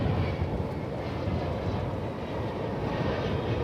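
An American Airlines Airbus A321 bound for Portland roars on its takeoff roll at DFW, a loud, dense, continuous engine noise filling the whole stretch.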